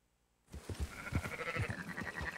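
Sheep in Red Dead Redemption 2 bleat repeatedly in a short, uneven run of calls over a steady game ambience, fairly close and clear, starting after a brief silent lead-in.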